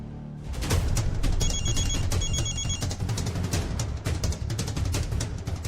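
A telephone rings repeatedly in a short, warbling double-ring pattern while a call is being placed, heard over a busy, clattering indoor background with no talk.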